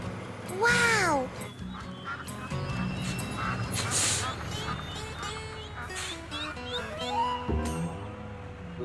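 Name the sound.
ducks quacking in a cartoon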